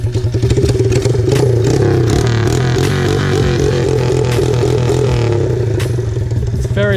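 A pit bike fitted with a modified aftermarket exhaust idles loud and close, a rough, uneven putter with strong low pulses and some rattling clatter, with no voices.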